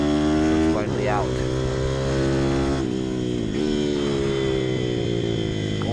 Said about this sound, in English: chasing down these Chinese bikes with my Chinese bike